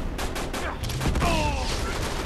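Gunfire in the video game Uncharted 3 as a dense burst of rapid shots and thuds across a desert shootout, loud and close, over steady game background noise.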